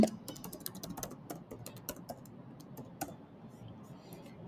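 Email address being typed on a computer keyboard: a quick, irregular run of close, crisp key clicks over a faint room hum, with no talking.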